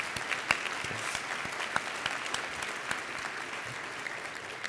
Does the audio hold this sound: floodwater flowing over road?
no